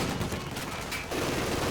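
Machine gun fire from a World War II strategy video game, a dense, continuous rattling fusillade that stays loud throughout, with a brief dip in intensity midway before the firing resumes.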